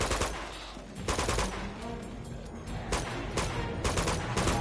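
Rapid gunfire rattles across an Uncharted 2 firefight, overlapping bursts of automatic shots at moderate distance, with no voices heard.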